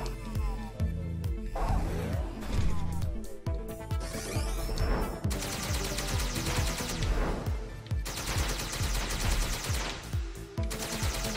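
Weapons fire rapidly in the space racing game Space Racing Odyssey, bursts of shots and impacts repeating over a busy mix of engine hum and music, steady and loud throughout.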